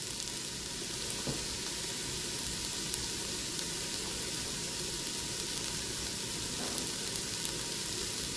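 Chopped onion and garlic, salted, sizzle and fry steadily in a pot in an electric multicooker, a continuous even crackle with no talking.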